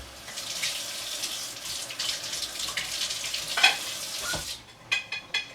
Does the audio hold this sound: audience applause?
no